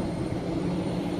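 Airplanes at Vienna International Airport produce a steady distant roar of jet engines, a broad even rumble heard alone for a brief moment with no talking.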